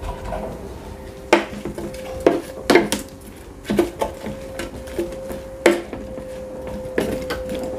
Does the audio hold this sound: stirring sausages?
yes